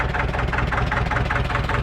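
A small 22 hp tractor engine idles steadily up close, with a low, even rumble and a regular mechanical pulse and no voices.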